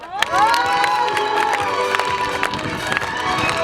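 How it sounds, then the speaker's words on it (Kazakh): A crowd at a village gathering of elders in Alakol, Nura district, Karaganda region claps and cheers, a lively burst of applause with whoops and shouts that stays fairly loud and busy to the end. "бір шапалақ ұрып қояқшы"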